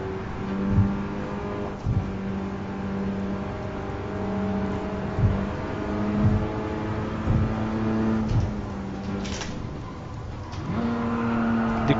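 Racing car in Gran Turismo Sport accelerating on a circuit, a steady engine drone that climbs in pitch through repeated gear shifts, with whining tones rising and dropping at each change, close and fairly loud.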